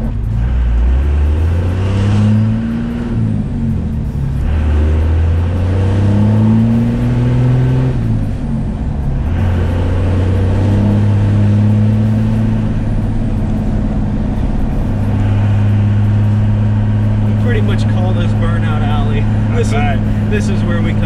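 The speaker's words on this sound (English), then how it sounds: "went for a ride in his new truck" Pickup truck with a 24V Cummins diesel engine driving on a street, its deep engine note rising and falling through several revving gear pulls, loud and close from inside the cab, with people talking over it.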